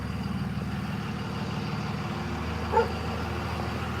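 A big diesel truck engine idles close by in a steady, deep rumble that holds level throughout, with a short, faint higher sound breaking in near the end.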